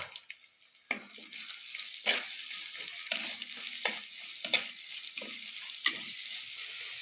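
Onions for a crab curry sautéing in a pan, a steady sizzle broken by repeated sharp scraping and stirring strokes roughly every second, close and moderately loud with no voices.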